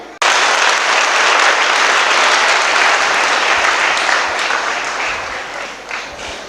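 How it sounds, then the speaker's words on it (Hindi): Loud, sustained applause from a church congregation, dense steady clapping that swells at once and then slowly tapers, with no speech over it. "बोलो इस गवाही के लिए आप कितनी तालियां बजाएंगे?"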